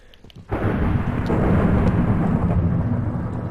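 A lightning strike in Minecraft Bed Wars sets off a sudden loud rumble of thunder that swells and then rolls on steadily with a broad roar, close and without voices.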